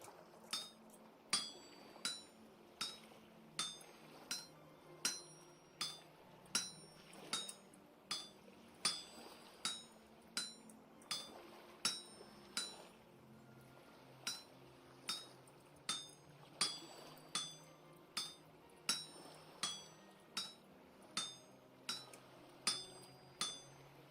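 Steady metallic hammer strikes ring out on an anvil while smithing a hammer head in Vintage Story, roughly two clangs per second with bright clinking overtones, close and clear with no talking.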